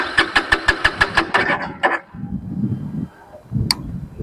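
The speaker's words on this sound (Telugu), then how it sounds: "సో ఇంజన్ ఎగ్జాస్ట్ నోట్ అయితే విందాం ఒకసారి ఎలా ఉందో." Engine of a 2024 Yezdi Adventure motorcycle revving in a quick run of sharp, evenly spaced bursts, then settling into a lower, rougher idle rumble close by, with one brief high click near the end.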